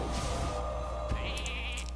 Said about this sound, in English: Turn that into a sheep.